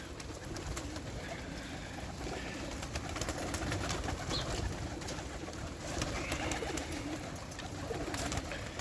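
Soft, low cooing of pigeons being fed in a farmyard amid a busy outdoor rustle and faint background noise, continuing throughout at a fairly quiet level.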